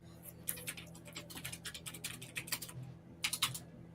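Quiet clicks from a computer keyboard come in quick, uneven bursts of typing with short pauses between them, soft and fairly close, over a low background hum.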